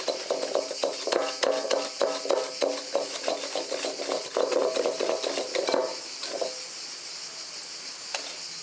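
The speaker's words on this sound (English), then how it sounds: "To this I add sugar and whisk until frothy and pastel yellow" Egg yolks and sugar whisked by hand in a bowl for homemade Italian gelato in Tuscany, a quick rhythmic metallic clinking of whisk against bowl that runs steadily, then thins out and stops near the end, heard up close with no talking.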